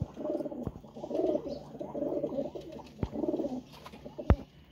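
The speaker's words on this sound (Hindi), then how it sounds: "ये जी कबूतर टैडी कबूतर है दोस्तों" Teddy pigeons coo nearby in repeated rolling phrases, several in a row with short gaps, punctuated by a few sharp clicks or taps.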